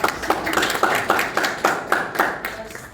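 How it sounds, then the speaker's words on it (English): A round of applause at a presentation event: crisp, evenly spaced claps repeat steadily over a few seconds, fairly close and moderately loud, with a faint room murmur underneath. "Round of applause to all the people."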